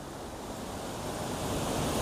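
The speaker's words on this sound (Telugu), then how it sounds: "ఆ గుహలో నుంచి దూరి వాటర్ అయితే ఇవతలకు వస్తుంది" The Gosthani river pours out of a deep, dangerous cave in a steady, loud, broadband rush of flowing water, continuous and close, with no voices over it.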